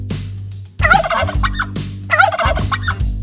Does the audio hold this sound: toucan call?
yes